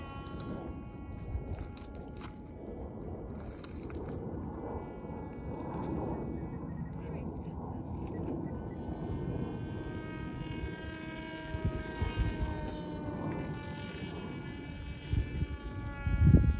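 Crash Test Hobbies Widowmaker RC plane on its maiden flight, its electric motor giving a steady buzzing whine that rises and falls in pitch as it flies, continuous and fairly close, with no voices.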